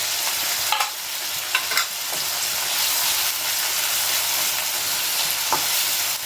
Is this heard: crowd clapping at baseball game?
no